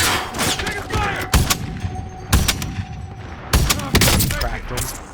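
Rapid bursts of gunfire in the video game Warzone, with repeated loud shot clusters and thuds over a continuous battle soundscape, interspersed with voices talking.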